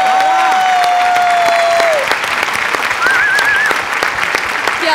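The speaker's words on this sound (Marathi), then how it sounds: "ताईच्या बेरिंगसाठी जोरदार टाळ्या झाल्याच पाहिजेत." Applause from a live comedy-show audience, a steady broadband patter of many hands clapping throughout, loud and close, with a few whistles rising over it.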